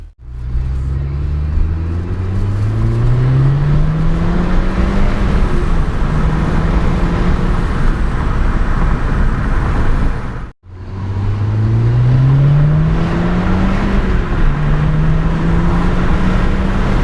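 A VW Golf R Mk6 drives and accelerates twice through the gears, engine rising in pitch with each pull, a loud close interior drone with a brief pause between runs and no talk.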